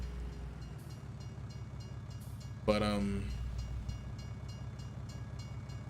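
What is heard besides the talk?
train passing in Farming Simulator 19 video game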